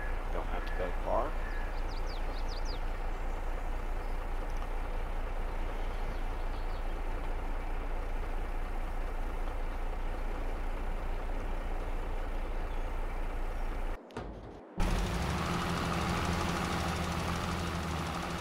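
A Big Bud 747 tractor on tracks rumbling steadily while plowing, a loud continuous low engine drone with a brief dropout near the end, and a voice talking over it.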